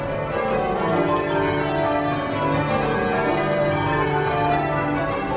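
Tower bells ring in a change-ringing method, a dense, steady cascade of overlapping bell strikes from the treble down to a heavy tenor, loud and continuous with no voices.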